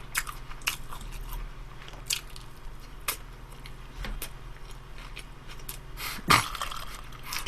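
Close-up crunchy bites and steady chewing of a Lotteria bulgogi burger, with soft mouth noises throughout and a louder bite near the end over a low room hum.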